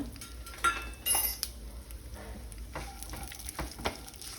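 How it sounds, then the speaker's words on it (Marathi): Cashews, almonds, pistachios and raisins are sautéed in ghee for a traditional sweet, making a soft sizzle with intermittent clinks and scrapes of a utensil against the pan. "आता तुपावर छान हे परतवून घ्यायचे आहेत"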